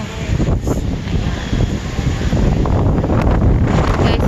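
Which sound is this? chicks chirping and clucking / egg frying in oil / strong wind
strong wind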